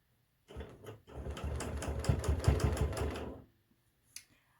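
Sewing machine stitching straight-line quilting on a table runner, a fast rhythmic needle chatter running for a few seconds after a brief start, then stopping with a single later click.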